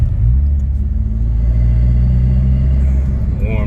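A Chevy Cruze with an aftermarket downpipe and stock exhaust rumbles loud and close at low rpm in a low gear, holding a deep steady drone, with a brief rise near the end and no crackles or pops.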